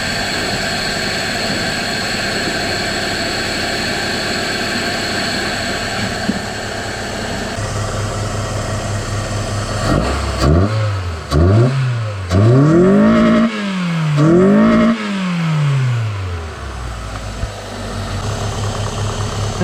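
A car engine revs several times over a steady running hum, each rise and fall of pitch carrying a loud intake whoosh, then it settles back to idle.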